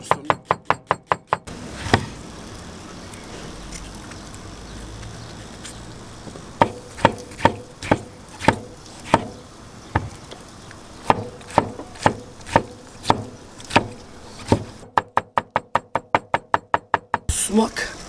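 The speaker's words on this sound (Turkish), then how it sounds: "soğanımızı doğrayalım" Rapid knife chops through onion on a wooden board, coming in quick bursts and steady runs of sharp knocks, with a brief pause in the middle.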